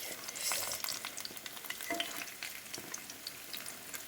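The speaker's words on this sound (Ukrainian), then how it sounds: "І дам йому підсмажитися." Apple vertuta pastry frying in a pan, a quiet continuous sizzle with fine crackles and small spits, heard close and without voices.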